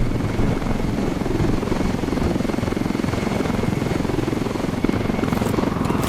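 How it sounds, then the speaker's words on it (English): A helicopter in the video game Ghost Recon Wildlands roars steadily and loudly throughout, its dense rotor thump and engine drone unbroken with no one talking. "Weaver, Nomad and Holt are base jumping from the helicopter"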